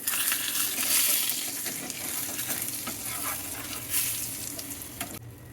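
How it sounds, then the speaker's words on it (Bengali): An egg fries in a pan and is flipped, giving a steady close sizzle with a brief bump of scraping partway through, before the sizzle drops quieter at the very end. "এখন আমরা ডিমটাকে উল্টিয়ে নিব।"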